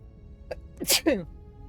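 A single short sneeze comes close by, with a sharp breathy burst and a quick voiced tail, in an otherwise quiet room.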